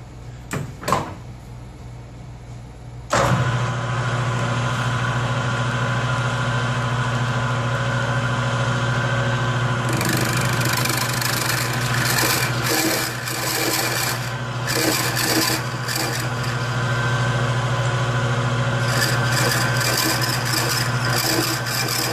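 A lathe parts off a metal part for a combat robot weapon system. The machine starts after a few quiet seconds of handling and then runs with a steady, close hum and grinding cut for about twenty seconds.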